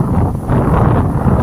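Strong wind buffets the microphone on a hillside edge walk in the Peak District, a loud, continuous low rumble filling the whole moment with no talk.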